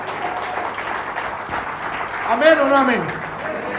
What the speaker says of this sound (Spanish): Alguien le da un aplauso a Jesús en esta mañana.